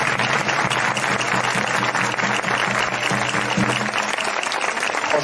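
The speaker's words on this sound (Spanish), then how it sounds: "Un aplauso para ellos." An audience at a tamboriteros gathering claps steadily after performers are introduced, a dense, loud, even wash of applause lasting the whole stretch, with faint tabor drum beats underneath.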